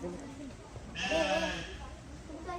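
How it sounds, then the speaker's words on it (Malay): A goat at a farm attraction in Cameron Highlands gives a single close, wavering bleat lasting about half a second, surrounded by people talking nearby. "Kambing."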